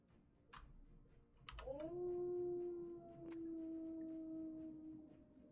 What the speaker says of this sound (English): You hear wolves in the distance.